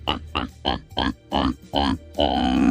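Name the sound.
man imitating a pig grunting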